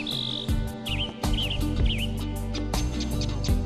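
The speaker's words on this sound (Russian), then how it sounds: "Достаточно нажать кнопку под фотографией птицы, и раздастся ее пение." Recorded birdsong plays from a button-activated display at a visitor centre: a few short whistled chirps and trills repeat over a steady electronic hum and clicks, close and fairly loud.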